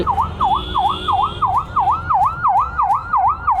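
An ambulance siren wails past on a road, a loud, regular rising-and-falling cycle repeating about every third of a second over low traffic rumble.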